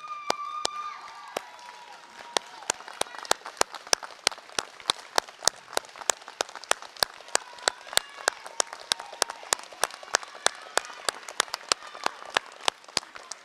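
An audience at an industry training initiative graduation claps steadily for about thirteen seconds, a dense, even patter of many hands in a hall with sharp individual claps standing out.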